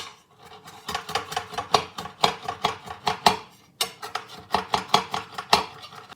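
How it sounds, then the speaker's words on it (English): A knife chops chickpea and nut burger ingredients on a glass chopping board, a quick, uneven series of hard, sharp clacks close up, briefly pausing before resuming. "I hate doing this on a glass chopping board"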